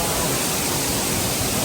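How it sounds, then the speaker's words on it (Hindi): Fast, heavy water pours down a large waterfall near Kote Betta in Coorg, a dense steady roar filling the whole range, loud and close without a break. "बहुत तेज है भाई पानी"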